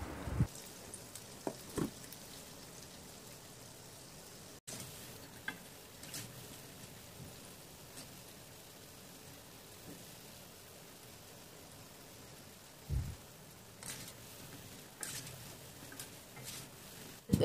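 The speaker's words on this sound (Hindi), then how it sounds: "लो फ्लेम में पहले इसे फ्राई करेंगे।" Dahi bhalla vadas, lentil dumplings, frying in hot oil on a low flame, a soft continuous sizzle and crackle with a few brief bumps of handling, close and quiet, no talking.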